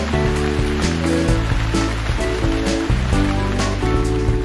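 Water pours onto plants amid a continuous splashing trickle that runs throughout and sits under bright, rhythmic background music.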